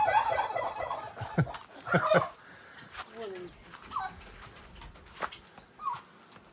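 Turkey gobbles from a tom walking with two hens and chicks in a village yard, several rattling bursts in the first seconds, then softer calls and scattered bird sounds with faint voices.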